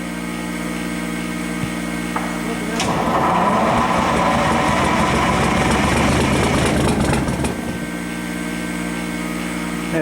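An International 671 Detroit Diesel, a Whinder Binder, catches and runs loud and rough after a cold start without ether, the engine roar building over a steady starter-like drone, then dropping back; no talking over it.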